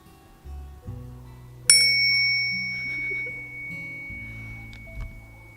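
A small bell in a home prayer corner rings out with one bright, clear strike whose shimmering tone slowly fades, preceded by soft low handling noise, close and fairly quiet.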